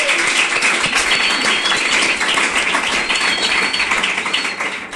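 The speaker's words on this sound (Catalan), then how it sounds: "Aplaudiments!" An audience claps and applauds continuously at an 8M (International Women's Day) special, a dense loud wash of many hands that holds steady and tapers slightly at the end.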